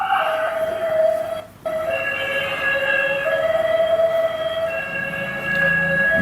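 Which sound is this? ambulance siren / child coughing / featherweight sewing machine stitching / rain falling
ambulance siren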